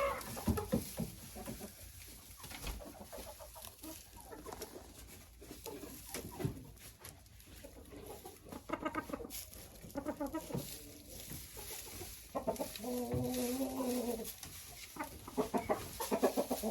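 Chickens cluck steadily inside a coop freshly laid with clean bedding, several hens close by, with bursts of louder clucking and calls rising over a continuous hum of the flock.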